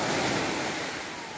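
Surf washes steadily onto a beach at Pulau Panjang's east coast in West Pasaman, a continuous broad roar of breaking waves mixed with wind buffeting the microphone, loud and unbroken throughout.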